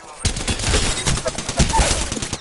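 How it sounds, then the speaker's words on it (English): Rapid video-game gunfire from a PS4 shooter, a dense burst of repeated shots running nearly continuously for a couple of seconds, loud and close, with game effects mixed in. "I'm taking shots."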